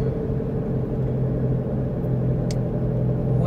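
Inside a car on an early morning ride there is a steady low road and engine rumble, even and continuous, with no one talking.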